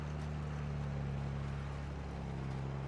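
A tractor cultivating in Farming Simulator 22 drones with a steady low engine hum and a constant rumble, loud and unbroken throughout, with no voices.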